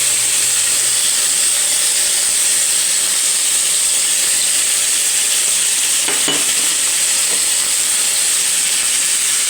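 Garlic sizzles loudly and steadily in a hot pan, a dense unbroken hiss close up with a couple of faint clinks near the end and no talk.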